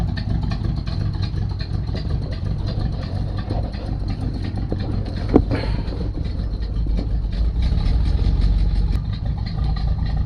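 A hearse engine idles steadily on its carburetors in a garage setting, a low continuous rumble with a single brief clank partway through and no talk.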